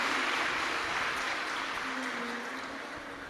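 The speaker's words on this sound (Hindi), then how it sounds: "आप सभी को एक बार जोरदार ताली बजाकर स्वागत वंदन अभिनंदन।" A large crowd at a Hindu devotional Shiva Purana recitation gathering claps loudly and steadily in welcome, a dense continuous wash of applause that slowly fades.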